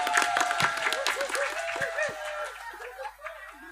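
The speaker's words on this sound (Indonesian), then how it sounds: "Tepuk tangan buat laki-laki." Men in a mosque or majlis audience at an Indonesian religious sermon with sholawat singing break into clapping mixed with laughter and chuckles, a dense burst of claps fading over a few seconds with voices and a sustained tone underneath.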